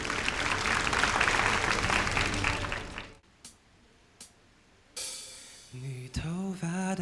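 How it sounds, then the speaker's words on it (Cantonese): Audience at a Macau inter-school singing contest final gives loud, dense applause for about three seconds, then it cuts off abruptly, followed by a few isolated sounds and the start of a song. "掌聲有請。"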